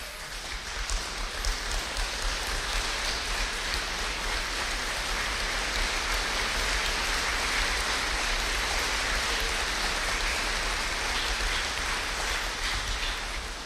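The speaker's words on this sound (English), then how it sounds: "You're all applauding, and I haven't even told you why he deserves it." A graduation ceremony audience applauds a special guest who has just been asked to stand, a dense, steady crowd clapping that carries evenly through the whole stretch like a wash of rain, with no talk over it.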